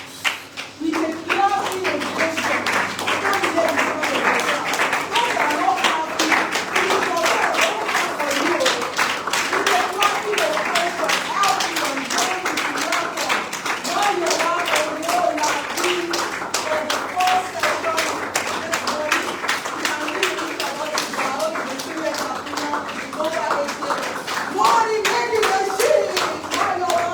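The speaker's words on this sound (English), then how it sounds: "So with a clapping ovation" A room full of people clapping in a sustained ovation at a money-themed talk, a dense steady patter of hands that carries on evenly for nearly half a minute.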